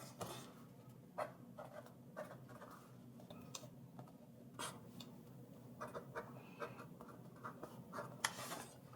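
Goals being written by hand with a pen on paper, heard as soft, faint scratching strokes in short intermittent bursts against a quiet room background.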